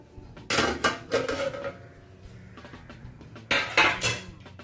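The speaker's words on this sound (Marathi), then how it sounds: "आता आपण यामध्ये ही ताटली ठेवून घेऊया।" A steel plate of sprouted mung dhokla batter is set down into a wok of preheated, steaming water, giving a few loud metallic clanks and scrapes in separate bursts, with a quieter rattle between them.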